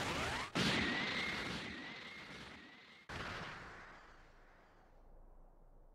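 A Special Beam Cannon energy attack from the video game Dragon Ball Sparking Zero: a loud, sustained blasting roar with a rising whine, cut by a sharp burst and then trailing off into a fading rumble; no voices.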